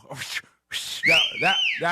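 A person whistles a Mexican-style whistle, a short sharp two-part call with a rising-falling sweep, loud and close, following brief breathy sounds.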